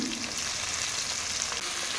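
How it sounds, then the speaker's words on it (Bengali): Chopped onions hit hot mustard oil left over from frying fish, giving a steady, even sizzle that stays close and fairly soft throughout, with no voices over it. "ওই মাছ ভাজার তেলের মধ্যে আমি আরেকটু সর্ষের তেল দিয়ে দিচ্ছি। দেওয়ার পরে এখানে কেটে রাখা পেঁয়াজ দিচ্ছি।"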